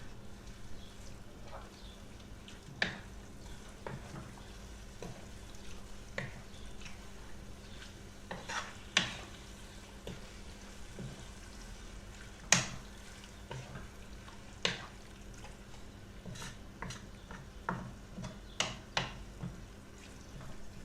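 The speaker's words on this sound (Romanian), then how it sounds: "Amestecăm." A spoon stirs nettle stew in a pot, after the liquid saved from scalding the nettles has gone in. It makes soft, irregular scrapes and clinks over a low, steady simmer, with no one speaking.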